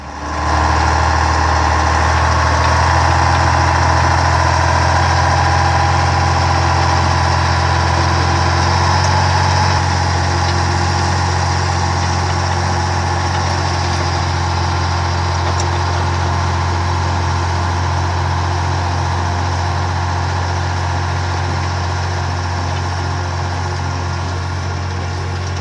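Ural logging truck engine running in snow, a loud, steady, deep diesel drone with rumbling low harmonics that holds evenly throughout, with no voices.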